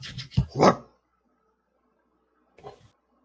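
During a Curse of Strahd tabletop game session, a person's voice imitates a creature's bark: a quick burst of two rough, close barks, then silence, then one shorter bark.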